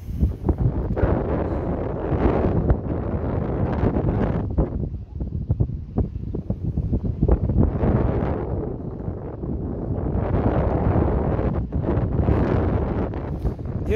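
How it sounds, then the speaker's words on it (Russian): Strong wind gusts buffet the microphone outdoors, a loud, continuous roaring rumble that swells and dips over several seconds. "Ну вот сейчас опять ветрено"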